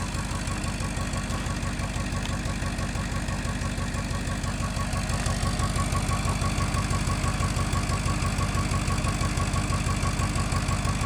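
A 1951 Ford engine idles steadily through a tractor exhaust pipe, a low, even, rhythmic chugging with a slight knock that runs continuously and fairly loud with no voices.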